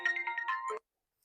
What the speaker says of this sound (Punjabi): ਇਹਨਾਂ ਦਾ ਫੋਨ ਆ ਰਿਹਾ